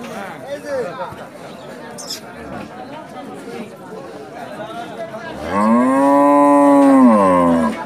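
At a cattle market in Rajshahi, people chat nearby, then a native-breed cow lets out one long, loud, drawn-out moo that carries to the end.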